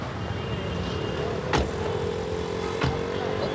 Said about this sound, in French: Bon, il y a beaucoup de circulation aujourd'hui.